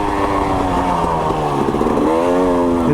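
A KTM 300 XC-W two-stroke dirt bike engine revs loud and close, its pitch climbing, dipping briefly at a gear change, then rising again.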